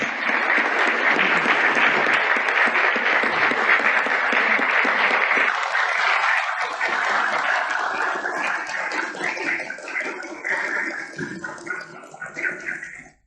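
Applause fills the first Turkish Grand National Assembly as an elderly deputy from Sinop walks to the podium; dense, loud clapping holds for several seconds, then thins and fades out.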